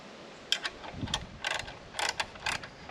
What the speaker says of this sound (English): I'm just using this ratcheting wrench here because it provides a little bit more clearance to this handle